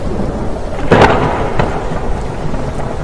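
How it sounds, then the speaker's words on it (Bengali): Heavy rain pours steadily with a loud thunder crack near the one-second mark and a fainter rumble later, the downpour hissing continuously throughout with no voices. "খুব জোরে বৃষ্টি হচ্ছে তখন"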